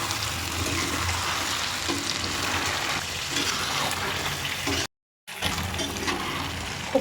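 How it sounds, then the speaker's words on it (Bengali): Chicken pieces with bay leaf fry in hot oil over a low flame, a steady close sizzle with scraping stirring sounds throughout, briefly cut to silence near the end before the frying resumes. "খুব ভালো করে মাংসটা নাড়াচাড়া করতে হবে, একদম লো ফ্লেমে"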